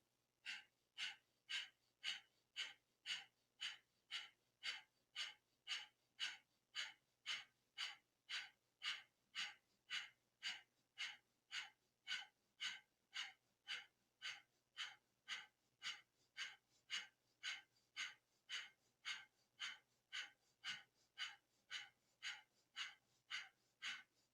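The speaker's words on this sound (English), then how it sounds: "begin breath of fire, looking at the toes" Rapid rhythmic breath of fire from kundalini yoga, dozens of sharp even nasal exhalations at a steady pace of roughly two per second, close and clear with no talking.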